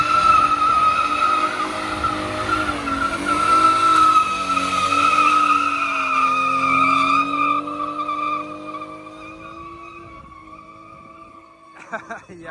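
Car engines rev and tyres squeal with rising and falling tones as cars leave a breakfast-run car meet at the Four Pipes on a wet day. The sound fades toward the end, with someone talking nearby.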